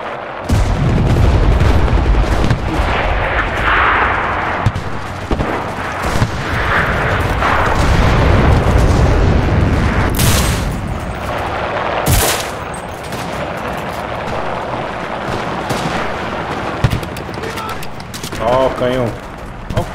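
Cannon blasts and rapid gunfire from the video game Enlisted: repeated heavy booms and sharp shots over a constant battle din, with someone talking excitedly throughout.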